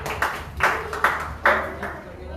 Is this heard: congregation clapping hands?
yes